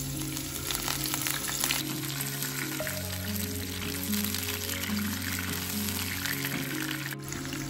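Water poured into a pan of shallots and garlic sautéed until golden for a meat curry, a steady sizzle and bubbling that carries on alone at close range.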